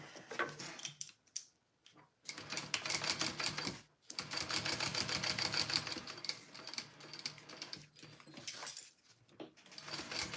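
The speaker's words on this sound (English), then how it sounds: "Time to top stitch." A sewing machine top stitches a Riverwalk Sling bag in bursts of rapid, loud mechanical stitching close by, stopping briefly between runs.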